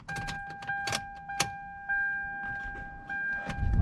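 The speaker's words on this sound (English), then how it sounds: "now we're going to turn the ignition to the on position. 2 clicks." Ignition key in a 1999 Toyota Camry turned to the on position, with a few light metallic key jingles and clicks followed by a steady electronic chime tone from the dash, close and quiet.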